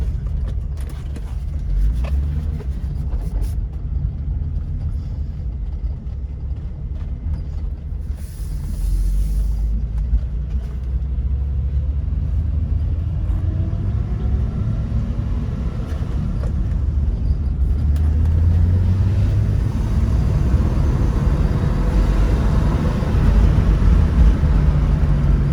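A BMW E30 325e drives along and swings through a U-turn, its engine a steady close rumble that slowly rises in pitch and strength as the car accelerates out of the turn.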